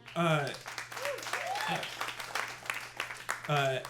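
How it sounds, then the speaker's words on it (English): A late-night talk show studio audience breaks into applause and cheering that swells and keeps going while a voice speaks over the clapping. "Most of my guests do not get an applause break for every sentence"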